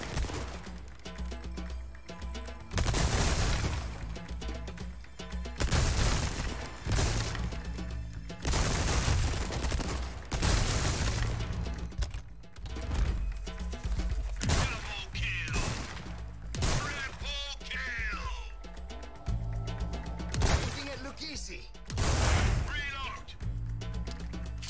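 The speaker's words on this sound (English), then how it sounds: "All right, shotgun and the TMP, but together." Shotgun and TMP machine pistol fire in Resident Evil 4 Remake, loud bursts of gunshots and rapid automatic volleys in irregular clusters, with heavy booms and mechanical clatter between them and talking over the shooting.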